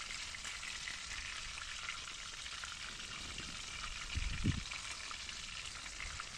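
Fish frying in pans over an outdoor fire during an October fishing trip at Lake Tudakul, giving a steady close sizzle throughout with a brief louder clatter near the middle and no talk.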